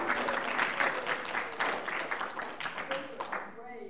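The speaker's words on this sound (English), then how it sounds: "Everyone give the husbands a round of applause." Studio audience applause at a newlywed game show, steady dense clapping from a crowd with voices talking over it, fading near the end.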